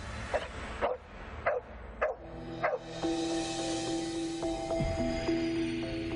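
A ghost-hunting dog on a paranormal investigation barks five times at a steady, evenly spaced pace, clear and fairly close, before sustained tonal background sounds take over.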